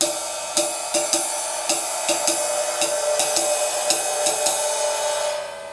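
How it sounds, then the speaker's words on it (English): A ride cymbal played with one hand in a swing triplet pattern: a continuous washy shimmer with regular accented pings in a lilting long-short rhythm, close and fairly loud, with no talking. "you play in one hand on the ride cymbal."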